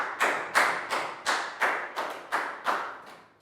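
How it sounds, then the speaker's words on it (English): A Year 4 class claps in unison, about nine sharp, evenly spaced group claps in a steady rhythm, each ringing briefly in the classroom. "Big round of applause for Net."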